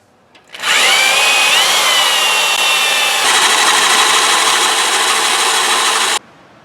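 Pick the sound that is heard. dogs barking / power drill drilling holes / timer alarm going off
power drill drilling holes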